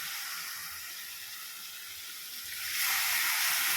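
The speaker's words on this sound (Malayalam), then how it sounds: "ഇനി നമുക്കിത് പാനിലിട്ട് കൊടുക്കാം. ഇതിലേക്ക് ആവശ്യത്തിന് വെള്ളം ഒഴിച്ച് കൊടുക്കാം." Water hisses and sizzles as it is poured into a hot pan of cut raw banana pieces for an Onam erissery, a steady wash that swells louder near the end.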